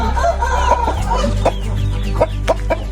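A hen of a show poultry breed clucks close by on a Namangan farm, giving a series of sharp, rhythmic clucks over a loud low rumble, with other fowl calling faintly nearby.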